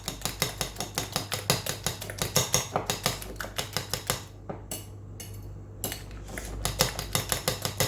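A fork or whisk beating eggs with green chilies in a bowl while making anda paratha, a fast steady rhythm of sharp clinking taps against the dish that pauses briefly partway through and then resumes, close and loud.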